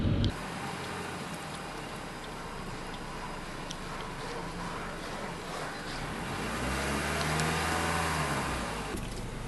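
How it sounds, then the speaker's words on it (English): A car fitted with hand controls, including a Bluetooth left-hand throttle, drives steadily down a road, its low engine and tyre rumble swelling slightly toward the end, with no talk. "As the vehicle straightens up, we can drive down the road with perfect mobility"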